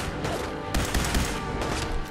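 Rapid bursts of gunfire from a weapon in Fallout 4, dense repeated shots crackling continuously across the span, loud and close with overlapping game sounds and no speech.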